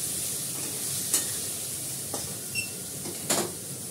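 Fish curry with onion and ginger paste fried and stirred in a pan, a steady soft sizzle broken by a few sharp scraping strokes of the spatula.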